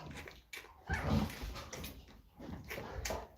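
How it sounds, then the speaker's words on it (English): A puppy gives several whimpering yips and soft barks at irregular intervals, nearby but fairly quiet. "Did you hear that one barking?"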